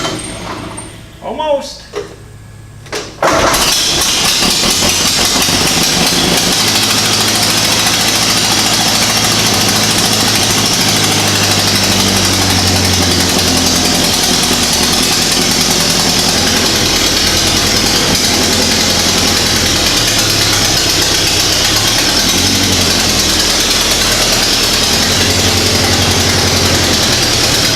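A 1929 Ford AA tow truck engine cranks briefly with the choke pulled, then catches and settles into a loud, steady, rumbling idle with constant vibration; a voice speaks briefly at the start.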